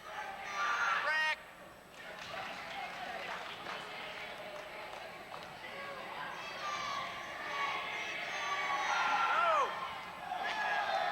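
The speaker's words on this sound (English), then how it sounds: "It's a well-deserved hand from the crowd." Basketball game crowd applauding and cheering for a player during the third quarter of a 1995 boys high school game, steady clapping and voices filling a gym, swelling louder toward the end, with talk over it.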